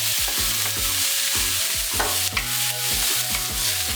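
Onions, garlic and green onions sizzling in a pan for a chickpea and shrimp dish, stirred in rapid, repeated scraping strokes over a steady close frying hiss, with no one speaking.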